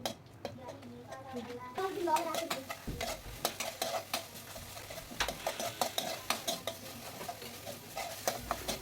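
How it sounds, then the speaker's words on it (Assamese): Tomatoes fry in a pan for masoor dal, sizzling softly as a utensil scrapes and stirs in repeated rhythmic strokes against the metal, with some faint background sound early on. "এনেকৈ ভাজি ভাজি মই বিলাহীখিনি মজলি কৰিম।"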